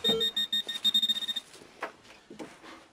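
A handheld metal detector beeps during a treasure hunt in a dim attic, giving a rapid run of short tonal pulses, then falling quiet amid faint rustling and handling noise.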